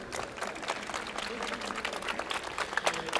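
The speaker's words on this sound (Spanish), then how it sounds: "otra vez un fuerte aplauso para el ponente" Applause from an audience for a speaker at a Campus Party conference, a steady patter of clapping with some crowd noise mixed in.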